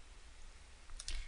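A computer mouse gives a quick, faint click or two against a quiet room background.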